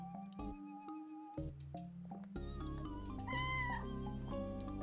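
A cartoon cat meows repeatedly in the video game Lost and Found Co., with several short, tonal calls, some rising or wavering, in a clean game soundscape with no talking.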